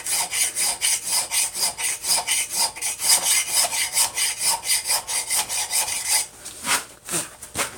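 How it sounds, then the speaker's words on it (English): A hand file rasps back and forth over metal held in a vise, with steady, loud, evenly spaced strokes that slow and break up near the end, with no talking. "I can get carried away with filing"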